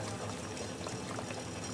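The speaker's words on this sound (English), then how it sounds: "Look, just a little bit of water while it's going." Water is poured steadily into a running ice cream machine, giving a continuous splashing pour mixed with the machine's churning hum, fairly quiet and without talk.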